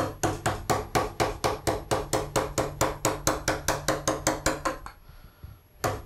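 A mallet drives a 7 mm number 11 veiner into wood for a preliminary cut, making a fast, even run of about twenty sharp close taps that stop abruptly, followed by near silence and one last tap.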